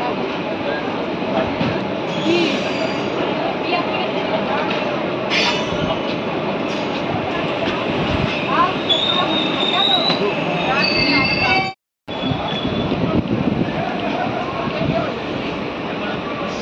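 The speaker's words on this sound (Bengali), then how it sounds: "আমাদের ট্রেন এখন এসে পৌঁছালো রামপুরহাট জংশন।" The Sahibganj–Howrah Intercity Express rolls into Rampurhat Junction, a loud continuous rumble of wheels on rails with metallic squeals and clatter, briefly cut by a moment of silence near the end.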